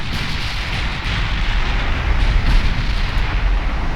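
Heavy 18-inch battleship guns fire in the naval video game Ultimate Admiral Dreadnoughts, a loud sustained rumbling roar of gunfire and explosions, dense and continuous, with no talking.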